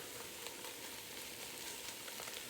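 Onions caramelizing to near black in a pan for French onion soup, a quiet continuous sizzle and hiss heard close up with faint stirring scrapes and no talk.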